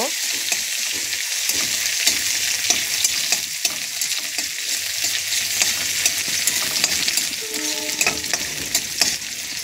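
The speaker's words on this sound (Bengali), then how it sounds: "তারপরে আমি পেঁয়াজ কুচি দিয়ে দিচ্ছি। একটু নাড়াচাড়া করব।" Chopped onions and black cumin seeds frying in a pan for a fish curry, a steady close hiss of sizzling oil with scraping stirs of a spoon throughout, no voices.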